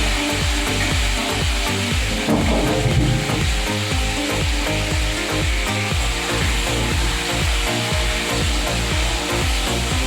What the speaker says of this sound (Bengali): কড়াই বসিয়ে দিয়েছি তেল গরম হয়ে গেছে এবার কিন্তু আমি মাছগুলো ভেজে নেব